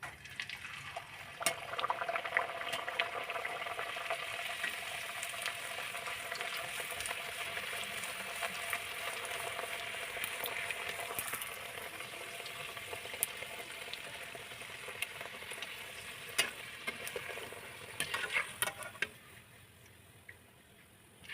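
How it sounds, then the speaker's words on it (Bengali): A vegetable kachori dropped into hot oil in a wok sizzles and bubbles in a steady, fairly loud hiss that holds almost throughout, then drops away near the end. "তেলটা গরম হয়ে গেছে। এবার একটা কচুরি ছেড়ে দিচ্ছি।"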